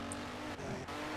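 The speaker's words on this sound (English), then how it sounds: "The car sounds are awesome." A Ferrari engine from the racing game Test Drive Ferrari Racing Legends holds a loud, steady growl with a tire-squeal whine. The sound breaks twice, briefly, as if on gear shifts.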